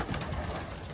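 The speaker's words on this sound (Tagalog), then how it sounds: "So itong si Pula, makulit tong ibon na to." A racing pigeon coos nearby in soft, low murmuring pulses within a loft, with a faint steady background hum.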